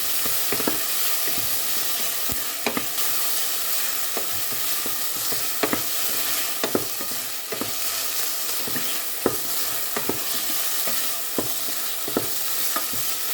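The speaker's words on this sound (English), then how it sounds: "Add the tomatoes and continue on cooking for 2 to 3 minutes." Tomatoes sizzle and fry in a pot of German beef goulash soup while being stirred. A constant frying hiss continues throughout, broken by frequent scraping clicks from a spoon against the pot, with no talking.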